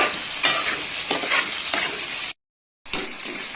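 Onion hisses in hot oil with ginger, garlic and chilli paste, a loud close sizzle with spoon stirring. The sound breaks off into silence for about half a second before the frying resumes.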